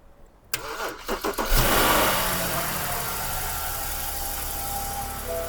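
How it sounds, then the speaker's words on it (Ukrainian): The engine of an abandoned BMW E60, left two years outdoors, cranks with a few stuttering turns, catches and roars to life, then settles into a steady idle close by. "Ну що, перший запуск. Попробуємо, заведеться чи ні."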